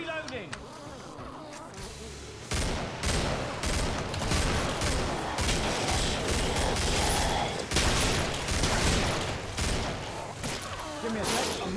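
Twin flare revolvers fire in Killing Floor, a run of loud, sharp reports with a buzzing insect-like hum beneath, short pauses between volleys and a brief quiet stretch at the start.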